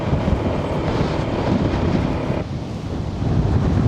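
Strong gusts roar across the microphone on a cold mountain road, a dense, continuous rumble that dips briefly and then surges back, with no voices over it.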